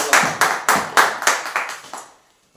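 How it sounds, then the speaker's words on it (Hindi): At a Wednesday church service, a congregation claps together in about eight loud, evenly spaced beats that gradually soften and fade to silence. "जोरदार एक ताली बजाते हैं।"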